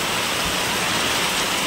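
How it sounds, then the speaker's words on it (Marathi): Heavy monsoon rain pours down in a dense, steady roar, loud and close throughout with no voices. "खूप जोरात असा पाऊस पडू राहिला."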